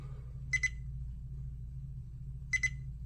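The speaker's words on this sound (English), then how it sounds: "it does beep, and it beeps very similarly to when you hit the record button to turn it off" Two short pairs of high electronic beeps from a Viofo A119 Mini dashcam, spaced about two seconds apart, over a low steady hum.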